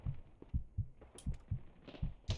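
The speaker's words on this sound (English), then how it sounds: "I really don't like the heartbeat sounds, not gonna lie." A heartbeat sound effect thumps in the shooter game BattleBit, with about eight soft, low double beats repeating at a steady, quick pace, fairly quiet and alone.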